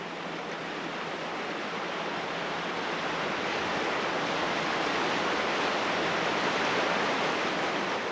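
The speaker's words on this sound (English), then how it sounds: "When water rushes over limestone for long enough, it wears it away." Steady, broadband rushing of water over limestone, continuous and even throughout, like a torrent pouring over stones, with no voices.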